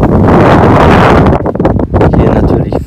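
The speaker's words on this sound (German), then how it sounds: "Und zwar ist es hier mega windig." Heavy wind buffets the microphone with loud, rumbling gusts that rise and fall, dominating the whole clip.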